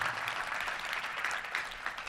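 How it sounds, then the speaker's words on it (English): Faint applause from a luncheon crowd at a Little Rock touchdown club gathering, a soft, even patter of many hands heard from a distance for a couple of seconds. "It's a round of applause, worthwhile for sure."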